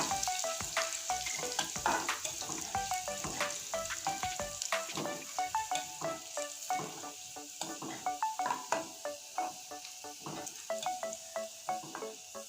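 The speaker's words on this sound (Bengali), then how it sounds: "রসুনটা আমি লাল করে ভেজে নিয়েছি" Garlic frying in oil in a pan until browned: a steady, bright sizzle under repeated quick stirring scrapes and clinks, close and moderately loud, with no talking.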